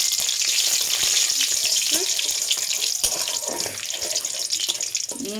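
Whole spices, a dried red chilli and a bay leaf crackle in hot oil in a wok, a steady close bright sizzle throughout with a few faint pops and clinks, no talk.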